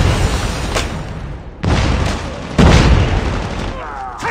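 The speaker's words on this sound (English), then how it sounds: "EMP!" A deep, booming EMP blast from the Call of Duty Mobile video game roars in loud, sustained waves, with a second heavy surge partway through and lingering rumble, with no speech over it.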